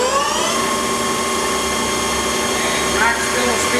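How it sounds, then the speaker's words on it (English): A 2008 South Western Industries TRL1840SX CNC lathe with ProtoTrak SLX control runs its spindle at 1500 RPM, giving a steady, loud machine whine with sustained tonal hum and no breaks. "and we can start the spindle"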